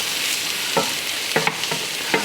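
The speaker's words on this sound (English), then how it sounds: "we really want to just kind of sweat out these mushrooms" Mushrooms and garlic sweat in a hot pan, making a continuous close sizzle broken by several short scrapes of stirring.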